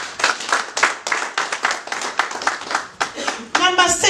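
A church congregation clapping in rhythm, bursts of hand claps at a brisk regular beat under a loud voice speaking and chanting, with a higher tonal voice joining near the end.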